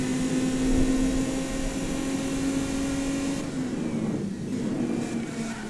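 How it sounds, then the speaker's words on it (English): A V6 engine of the BattleAxe V200 Leafslayer runs steadily with a loud, constant droning hum close by, its pitch holding then dipping slightly partway through. "it sort of sounds like my car, because my car's also a V6."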